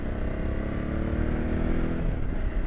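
A motorcycle with an aftermarket Diablo Midi exhaust, baffle in, rumbles deep and throaty, revving steadily up close with a loud, raspy exhaust tone throughout.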